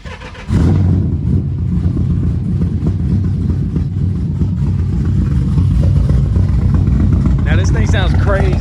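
A modified Scat Pack car making 440 wheel horsepower, its engine starting abruptly and then idling loud and rough with a lumpy, throbbing rumble, while someone talks briefly near the end.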